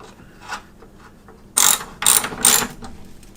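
A ratchet clicks off a nut in an MR2 Spyder engine bay, with a faint early click followed by three loud, close bursts of rapid pawl ratcheting in quick succession.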